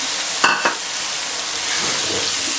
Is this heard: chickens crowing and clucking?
no